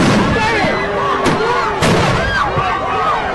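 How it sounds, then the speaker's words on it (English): Police concussion grenades go off at a Black Lives Matter protest in Minneapolis, two sharp loud blasts about half a second apart ringing out over a dense crowd din of shouting and noise, close by. "They're throwing sound concussion grenades."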